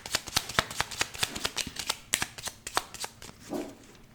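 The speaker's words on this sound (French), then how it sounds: "Je vais rajouter une carte ici." Tarot cards being handled and laid out, a quick series of crisp flicks and snaps at an uneven rhythm, close and clear, with a brief soft rustle near the end.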